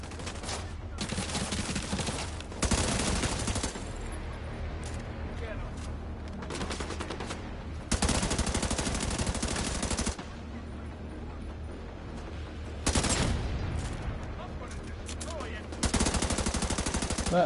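Gunfire in the video game The Division 2, with sustained bursts of rapid automatic shooting in several long volleys, loud and close, separated by brief lulls with quieter firing.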